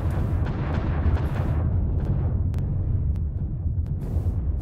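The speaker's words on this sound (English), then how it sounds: "Another artillery strike going in." Artillery strike explosions in a MechWarrior video game match, a dense, continuous rumble of heavy booms with scattered sharper cracks layered on top, loud and sustained throughout.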